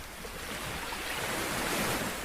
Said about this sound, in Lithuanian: Vėjas iš priekio pučia